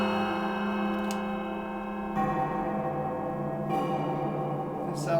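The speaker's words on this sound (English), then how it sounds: "They sound like church bells sometimes." Ringing metallic strikes on Tom Nunn's Crustacean metal sound sculpture, struck with the back of a comb, with long sustained tones, bell-like and resonant, several hits layered over one another at steady loudness.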